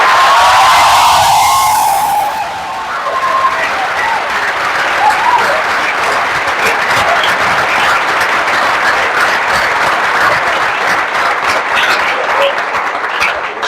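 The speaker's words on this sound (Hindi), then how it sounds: "हम लोग के लिए भी थोड़ा ताली वाली बजा दें।" Audience applause at a coaching institute results event, a loud, dense crowd of clapping hands that holds steady for many seconds, with a brief cheer at the start and no speech over it.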